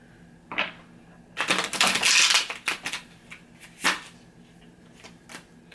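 Tarot cards being shuffled and drawn close to the microphone, with a short riffle, then a longer burst of rapid shuffling and a few sharp card snaps and slaps. The sounds stand alone against a quiet background, with no talking.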